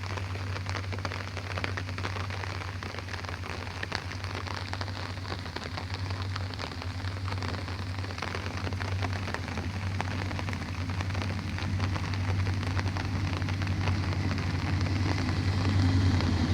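Steady rain pours down in a rural Bengal village, a dense even hiss with a low rumbling hum beneath it that swells slightly toward the end, with no voices.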